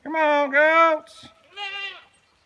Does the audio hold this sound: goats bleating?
yes